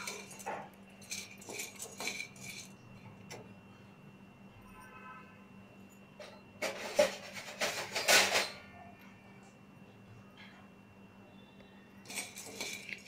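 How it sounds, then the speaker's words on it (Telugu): Roasted gram dal (putnala pappu) being stirred in a pan gives soft scraping and rattling in scattered bursts, with a louder cluster of clinks near the middle and quiet gaps between them. "ఇలా మధ్య మధ్యలో కలుపుతూ దోరగా వేయించుకోండి"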